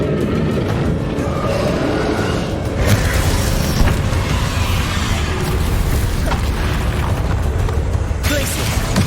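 Booming fire-spell blasts in Hogwarts Legacy during the final boss fight, heavy low rumbling bursts layered over continuous battle noise, loud and close throughout.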